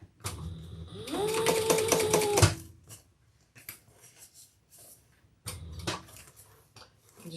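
Sewing machine basting a piece onto a Karla crossbody handbag, running in one close, steady burst of rapid stitching with a rising whir for about a second and a half before stopping, followed by faint handling clicks.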